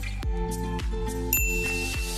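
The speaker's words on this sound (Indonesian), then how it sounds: "dan aktifkan lonceng notifikasinya agar kamu bisa mendapatkan info terbaru" A notification bell sound effect chimes in a quick series of bright dings, several strikes in a row ringing out clearly with no voice over them.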